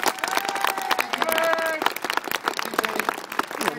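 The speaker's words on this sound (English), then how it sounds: "Give them a huge round of applause." A crowd at an outdoor street festival applauds with dense clapping, while cheers and voices rise over the claps.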